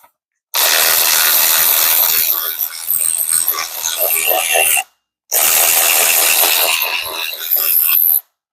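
A ratchet works on engine bolts on a Squarebody truck project, but the bolts keep spinning without breaking loose. Two long bursts of loud, close, harsh clattering whir are split by a short pause.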